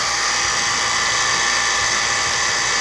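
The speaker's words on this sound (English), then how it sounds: "it's a slow vacuum to get started because of that hole" Vacuum pump running steadily while drawing air and moisture out of wood in a stabilizing chamber through a small restrictive hole; a continuous, bright, even whine and hiss holds loud and close throughout.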